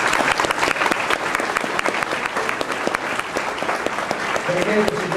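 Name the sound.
applause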